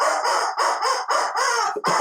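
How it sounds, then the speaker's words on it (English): A rubber chicken lets out a drawn-out squawking squeal in several loud, close bursts with short gaps between them, ending in a brief choked squeak, with no voices over it. "And the rubber chicken says"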